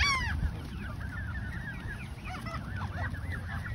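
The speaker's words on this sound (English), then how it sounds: "these Canadian geese, I think, are very lost" Several Canada geese honk repeatedly in a loose, overlapping chorus at a lake in Carolina Beach, fairly close, over a steady low background rumble.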